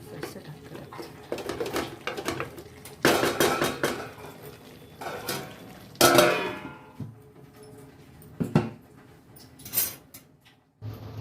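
A spoon stirs jackfruit curry in a pot and a lid is set back on. The scraping clatter comes in bursts with sharp metallic knocks and clangs, close and fairly clear, without talk.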